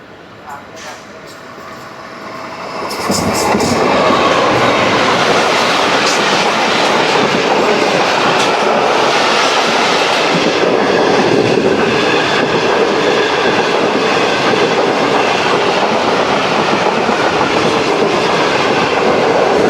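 The Shalimar Express passenger train on a Pakistani line rumbles past close by at normal speed. It starts as a quiet approach, then becomes a loud, sustained roar of wheels and carriages that lasts through the rest of the clip.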